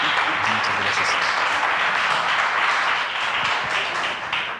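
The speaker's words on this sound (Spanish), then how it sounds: "Vamos a darle un aplauso a David." A congregation at a church service gives David a round of applause: loud, sustained clapping from many people that holds steady for several seconds, then begins to taper off at the end.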